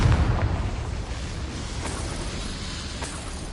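Confringo fire spell blast in the Hogwarts Legacy video game, a loud booming explosion that hits at once and rumbles on as a sustained low roar with crackling debris, alone with no talk.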